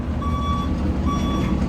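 Two long electronic reversing beeps from a big truck backing along an old street, sounding over steady, loud low engine rumble and street noise, with no talk.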